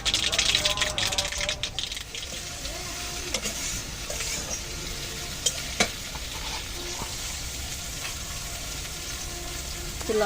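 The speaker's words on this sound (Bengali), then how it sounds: "আমি উচ্ছের জন্য কড়াই দিয়ে দিচ্ছি কিছু কালো সরিষা ফোড়নে।" Black mustard seeds sizzle and crackle in hot oil in a wok, giving a steady, dense frying hiss across the whole stretch with a few sharper pops.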